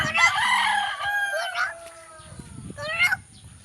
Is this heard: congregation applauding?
no